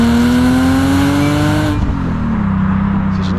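A BMW M3 E36 with a full stainless steel exhaust revs up with a loud, rising metallic engine note, then drops off sharply and settles back toward idle, close by with no talking.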